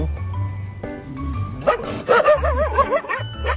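A dog barks and yips in short, excited bursts with whining tones, close and fairly loud, following a stretch of low steady background hum.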